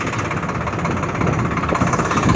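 A tractor engine drones loudly and steadily while working between rows in a flowering chickpea field, a close, vibrating rumble with no pauses.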